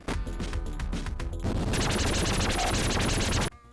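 Gunfire and explosion effects from the 16-bit Terminator video game, a dense burst of crashing blasts and rapid shots that rings loud and continuous for several seconds before cutting off abruptly.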